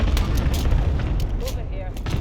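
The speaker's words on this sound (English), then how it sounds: "Enemy cluster strike incoming." Dense barrage of booming explosions from an enemy cluster strike in Call of Duty Warzone, rolling together into a continuous loud rumble with scattered sharper blasts and no clear gaps.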